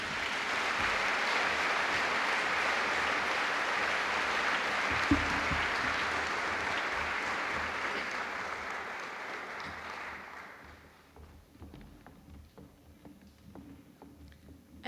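Warm applause for a teacher at a high school class commemoration ceremony, a dense steady crowd of clapping that holds strong for about ten seconds, then thins to a few scattered claps in a quieter room.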